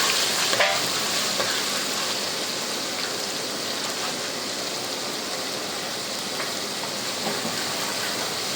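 Ginger and garlic frying in hot oil for a stuffed karela dish, a loud, steady sizzle that fills the whole stretch evenly, with a faint clink of a utensil near the start and no talking.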